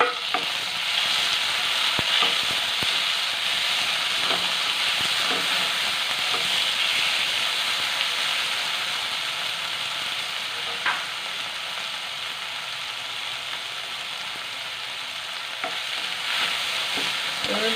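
Chopped tomatoes frying in a pan for homemade noodles, giving a dense continuous sizzle and hiss with occasional soft stirring knocks, close and steady throughout.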